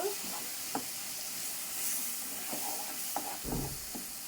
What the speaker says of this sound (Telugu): బాగా మిక్స్ చేసేద్దాము చట్నీ.